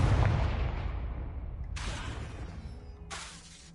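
A Confringo blasting-spell explosion effect from a Harry Potter parody opens with a heavy boom that rumbles and fades, followed by two shorter bursts of crackling noise.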